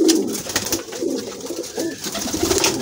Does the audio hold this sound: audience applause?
no